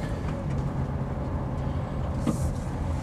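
A 2018 Mercedes-Benz X250d 4matic pickup with a 2.3-litre turbo diesel pulls away, its engine a close, steady, low rumble that holds constant throughout with no talking.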